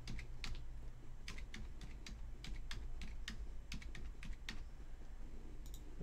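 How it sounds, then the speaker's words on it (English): Typing on a computer keyboard while entering payment details, with crisp irregular key clicks in quick bursts over a low steady hum, close and moderately loud with no talking. "I'm just typing stuff in."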